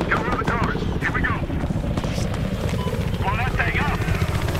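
A transport helicopter in Battlefield Hardline churns with a loud, steady rotor thump close by, while voices talk over it in short bursts.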